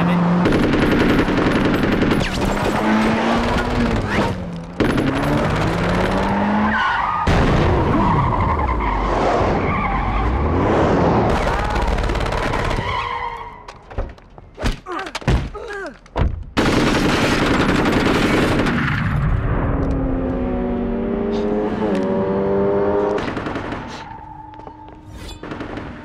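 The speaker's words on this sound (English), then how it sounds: "And Johnny's just doing all this with an AK-47." Saints Row 2 game action is loud and dense: bursts of AK-47 automatic fire mix with roaring car engines and screeching tyres across the whole stretch, with a brief quieter gap in the middle.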